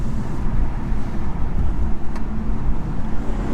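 A 2020 BMW M340i with a particulate filter, heard from inside while driving: a steady, loud low engine and exhaust drone with road and wind rumble, no talking.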